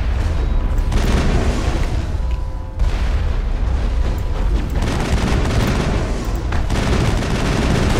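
Dense, loud gunfire and heavy explosions from the Saren boss fight in the video game Mass Effect, with continuous rapid shots and booming blasts filling the whole stretch and a brief dip near the middle, with no talking.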